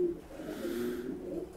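Seven-star pigeons coo softly in a loft: low, throaty, rolling calls that swell and fade steadily, faint and close.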